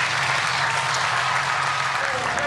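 Audience applause at the Tour Auto 2006 classic car rally, a dense, steady wash of many hands clapping throughout, fairly loud and continuous with no break.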